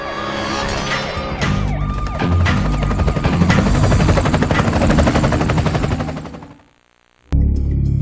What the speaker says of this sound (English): Donnie, the helicopter.